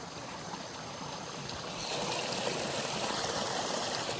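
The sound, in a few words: waterfall flowing in a village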